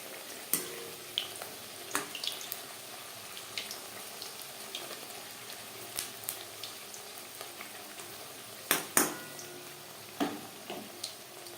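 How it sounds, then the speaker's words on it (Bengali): Papdi frying in oil in a kadai, a soft steady bubbling sizzle broken by scattered sharp pops and crackles, with a few louder bursts, no talking. "একসাথে খুব বেশি দেব না কড়াইতে যতটা জায়গা আমার সেই পরিমাণে পাপড়ি ভাজব"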